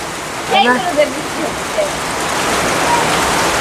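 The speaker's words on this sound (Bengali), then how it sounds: "এই তো এখন জোরে বৃষ্টি শুরু হয়ে গেছে" Heavy rain pours down in a steady, broadband hiss that fills the whole stretch, with a brief voice heard early on.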